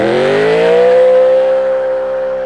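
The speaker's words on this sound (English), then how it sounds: "Let's jump into the cars and actually get some proper driving done." A rare BMW M3 revs hard on a mountain road, its loud engine note climbing in pitch and then holding a steady, strong drone at close range for a couple of seconds.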